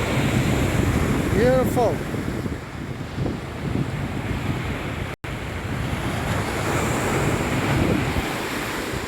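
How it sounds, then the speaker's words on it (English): Ocean surf and gusting wind at a beach roar continuously and close, with heavy microphone buffeting; a voice speaks briefly over the wash. "Just here at the beach."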